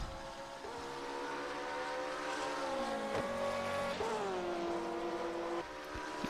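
Race cars in the rFactor 2 video game lapping Fuji Speedway during a GT race, with a loud, steady engine drone whose pitch rises and dips through gear changes, one car close and dominant with no talk over it.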